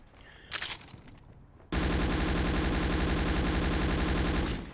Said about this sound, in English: if I can actually show when I'm just firing the clips empty